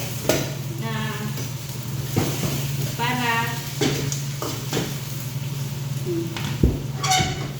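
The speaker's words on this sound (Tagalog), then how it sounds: "So kunting gisa-gisa lang ng kaunti." Tomatoes and onions sauté in a pan with a steady close sizzle and occasional stirring scrapes, while a person talks over the cooking throughout.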